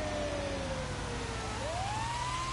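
An ambulance siren wails over steady traffic and road noise, falling and then rising again, moderately loud and continuous throughout.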